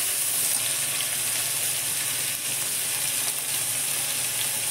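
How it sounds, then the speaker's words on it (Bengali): Shrimp, ash gourd, tomato and onion frying together in a pan give a dense, even hiss of sizzling oil throughout, steady and close with no voices. "সবকটা একটু ভেজে নেব"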